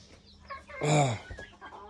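Large chickens on a poultry farm let out one loud, drawn-out cluck near the middle, with quieter clucks and soft farmyard murmuring around it.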